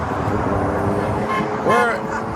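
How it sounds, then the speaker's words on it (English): A passing car's horn gives a single short honk beside a roadside gathering at Daytona Beach, rising briefly above the steady rush of traffic. "Ooh, they got a honk."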